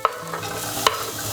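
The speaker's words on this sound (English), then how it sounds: "So we'll start by frying the onions." Onions sizzle in a frying pan for a beef lasagna, a steady frying hiss broken by three sharp scraping clicks as they are stirred.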